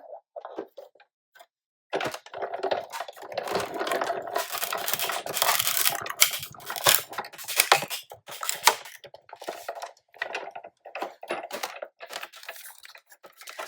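A Sizzix die-cutting machine cranks a cupcake box die through its rollers, giving a close, dry crunching and ratcheting texture that runs for about eleven seconds with brief uneven pauses.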